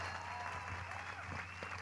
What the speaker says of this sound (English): We are applauding them for their service and for achieving this important milestone